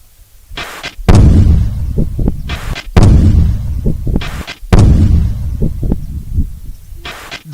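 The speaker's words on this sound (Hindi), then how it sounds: "ऐसा धमाका हुआ कि धरती कांप गई," Three heavy blasts boom one after another, each followed by a rumbling, crackling decay that fades before the next hits.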